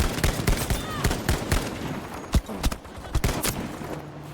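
Rapid gunfire in the World War II shooter Battlefield V, a dense string of sharp overlapping shots and bursts with a few louder close cracks, over steady battlefield background noise.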